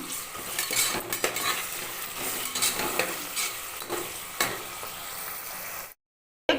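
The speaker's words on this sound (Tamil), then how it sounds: "நல்ல வெங்காயம் வதங்கிட்டு இருக்கு" Onions sautéing in a pan with mint and coriander leaves for a mushroom biryani: a steady, close sizzle with repeated spatula scrapes and clinks, stopping abruptly just before the end.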